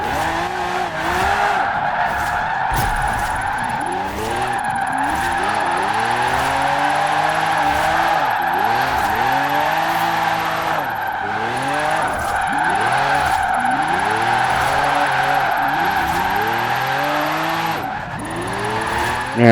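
A Bowler EXR S all-wheel-drive car, tuned for drifting in Forza Horizon 4, slides continuously with loud tire squeal and a revving, rising-and-falling engine over nearly twenty seconds; no one speaks.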